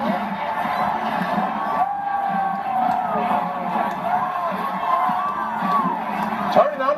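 A large crowd at a college football game cheers and roars steadily as a fraternity member dances to Atomic Dog, the noise coming through a played recording with shouts and whoops and a voice talking over it.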